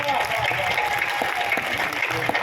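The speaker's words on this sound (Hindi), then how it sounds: "अभिनंदन के लिए आकाश भर तालियां बजा दीजिए" An audience claps at a Hindi poetry gathering held on the last night of Navratri, a lively burst of applause with voices mixed in beneath it.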